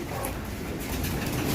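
Pigeons in a loft, young racing birds, give soft low cooing over a steady murmur of ambient noise, continuous and fairly quiet throughout.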